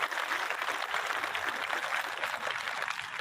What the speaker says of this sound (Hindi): इसलिए जोरदार ताली बजाइए एक बार